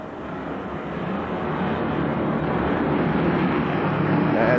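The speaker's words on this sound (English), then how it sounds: "And they pick up the throttle through turns 3 and 4." Race cars roaring together around an oval speedway in 1993, a dense, continuous engine drone that swells steadily as the pack accelerates through the turns.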